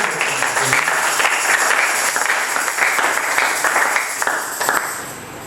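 Congregation in a church applauding together, a dense, steady wash of many hands clapping loudly and continuously throughout.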